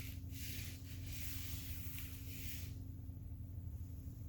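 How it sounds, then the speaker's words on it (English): A bare foot scrapes along the floor during a karate half-moon step, a soft, close sanding rub with a few short strokes that stops partway, leaving a quiet room hum. "as I move my foot forward, I'm going to scrape the bottom of my foot on the ball along the floor"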